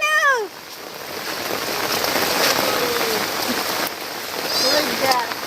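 Steady rain falling outdoors along a village road during a heavy downpour, a continuous even hiss with a few chirping or squeaking tones rising briefly above it near the start and end.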